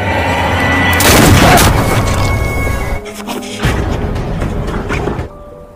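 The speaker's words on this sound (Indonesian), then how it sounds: "Jang Han-seo yang tidak pandai menembak membuat pelurunya tidak tepat sasaran dan hanya melukai Jang Junwo" A gunshot in a dramatic film scene, a loud booming burst that swells around the first second and rumbles on with crashing impact noise before cutting to quieter tails, with no talk over it.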